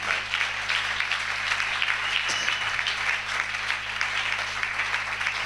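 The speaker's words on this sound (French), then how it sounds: "Est-ce qu'on peut applaudir très fort pour le prophète?" A church congregation claps loudly for the prophet during a Monday worship service, dense sustained applause that continues steadily throughout.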